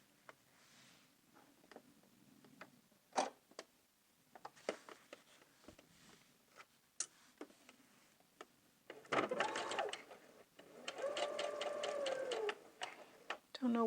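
A sewing machine stitches a pencil skirt hem, running in a couple of short bursts near the end after scattered handling clicks and taps, with a voice talking in the quieter stretches.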